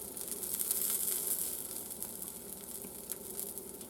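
Pancake batter frying in a very hot pan, a steady bright sizzle with soft crackling that swells then settles, fairly quiet and close, with no voices.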